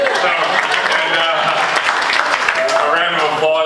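Wedding guests break into steady, dense applause that fills the room, with a voice speaking over the clapping throughout.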